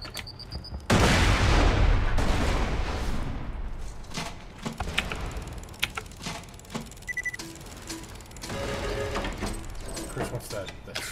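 Loud grenade blast followed by bursts of gunfire and explosions in the video game Borderlands 2, booming hard at first then continuing in scattered shots, with players talking over the combat.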